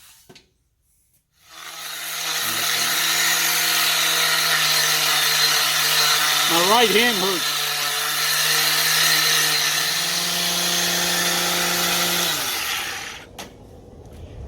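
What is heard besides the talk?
power tool cleaning dirt off a car wheel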